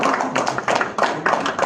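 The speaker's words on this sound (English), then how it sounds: "A very big round of applause to Mr. Modi!" An audience at an office gathering in Hyderabad applauds, a brief burst of clapping with uneven pulses of louder and softer hand claps, close and fairly loud.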